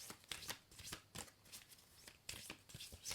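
Thick, heavy-stock oracle cards shuffled by hand at close range, a quick rhythmic run of soft riffling and sliding strokes, quiet and with no talk.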